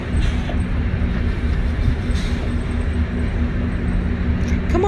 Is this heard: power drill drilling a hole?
no